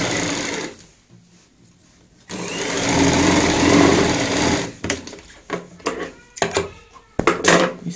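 Sewing machine stitching a cushion stuffed with cotton for a stool made from a waste bucket, running in a loud continuous burst, pausing, then starting again in short stop-start runs.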